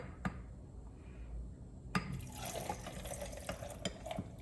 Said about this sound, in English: You just pour it into your cup.